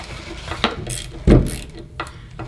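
A hand ratcheting screwdriver is torqued, giving a few scattered ratchet clicks and one louder clunk midway, close, with faint background noise.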